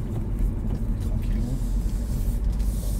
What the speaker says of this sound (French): Je commence à ralentir la voiture, en virage, comme ça.